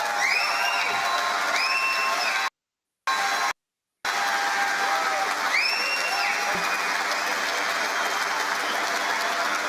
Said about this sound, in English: He loves the applause